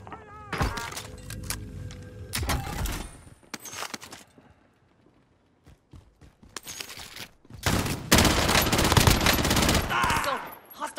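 Gunfire in Call of Duty: Warzone on Rebirth Island: loud, close bursts of automatic fire broken by short quiet gaps, with a long sustained volley near the end and a few dull thuds between.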